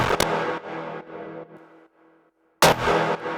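A one-shot synth pluck run through heavy effects chains, first a few decaying plucks fading out, then a sudden louder, grungier, distorted hit alone with no voices.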